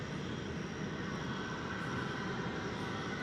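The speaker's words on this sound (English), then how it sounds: "This next flight is the one coming in from Nashville." A jet airliner arriving at Dallas/Fort Worth Airport roars with a steady, loud, broadband engine rumble and whine, constant throughout with no voices.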